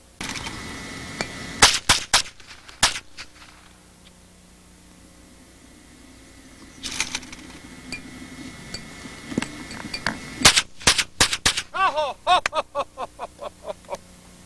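Sharp rifle shots fired at a moving target, a few spaced cracks early, then a quick string of rapid shots near the end, loud and close with some background noise.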